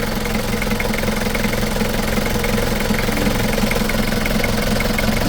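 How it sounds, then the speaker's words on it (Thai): A pickup truck diesel engine idles steadily and close by, a low rumbling knock repeating evenly throughout with no voices. "เบิ่งครับเองเสียงเครื่องนิ่มมาก"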